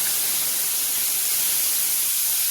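A ground paste of mustard, poppy seed and green chili hits hot oil and sets off a loud, dense, continuous hissing sizzle, close and unbroken throughout.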